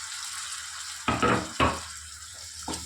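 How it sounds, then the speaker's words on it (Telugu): Tomatoes frying in ginger garlic paste for a cauliflower curry give a steady close sizzle, with a few sharper bursts of stirring and spatter partway through and no talk. "ఇక్కడ నేనైతే 3 మీడియం సైజు టమాటాలు వేస్తున్నాను"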